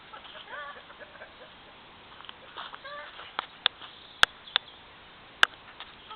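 Chickens cluck and chatter in a small flock, with sharp knocks or taps cutting in now and then, heard close and fairly faint.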